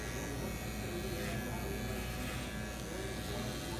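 An electric hair clipper buzzes loudly and continuously as it drags through hair, a close, strained motor hum with no pauses.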